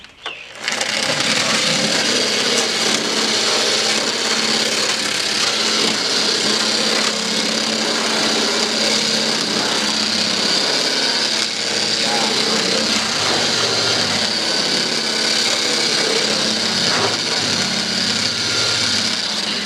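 A power tool grinds loudly and continuously, stripping thick Bondo filler from the roof of a 1965 Ford Galaxie, a harsh, steady abrasive roar that barely changes over about twenty seconds.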